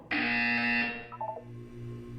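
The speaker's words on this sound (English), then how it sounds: "When you hear the buzzer, look down at the floor." Electronic buzzer from the video game Portal 2, a loud steady harmonic tone lasting about a second, followed by a few short stuttering blips and a low hum that carries on underneath.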